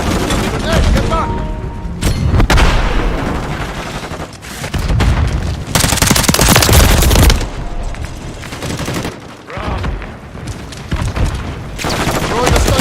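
A stun grenade goes off in a Call of Duty match, landing as loud, sharp bursts over near-constant rattling gunfire and booms that fill the whole stretch.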